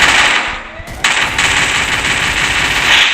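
SMG fire in a shooting video game, rapid continuous bursts of close, loud gunfire with a brief pause near the start, faint talking underneath.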